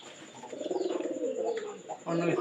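Soft throaty cooing from pigeons kept in pairs, a pulsing rolling coo in the middle followed by a louder burst near the end, close and fairly quiet.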